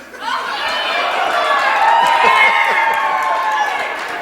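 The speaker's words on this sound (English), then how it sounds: "why do your colleagues cheer so for you?" A crowd of colleagues at a speech in Denver in 2004 erupts in loud cheering and whooping. The shouts rise quickly and hold as a strong, sustained roar, with some clapping mixed in.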